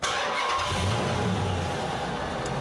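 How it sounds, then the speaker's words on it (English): A car engine cranks and fires up inside a garage, then settles into a steady, loud idle rumble close by, with no talking. "Start our engine."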